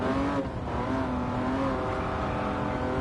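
A McLaren F1 engine in a racing video game holds a steady, loud drone with rising and falling harmonic pitch, running continuously without pause and without voices.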